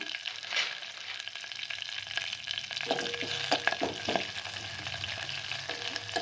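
Curry leaves frying in hot oil in a pan for a bottle gourd curry, a steady close sizzle with crackling pops and a few stirring scrapes, continuous and moderately loud, with no speech.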